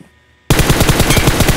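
Machine gun fire in the PUBG Mobile video game, a sudden loud burst of rapid, evenly spaced shots that starts after a brief near-silence and keeps going to the end.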